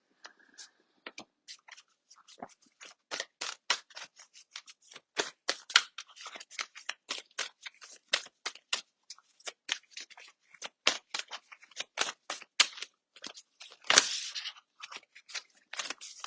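Large tarot cards being shuffled by hand, a long run of crisp riffling snaps and flutters in irregular bursts, close and clear with no talking.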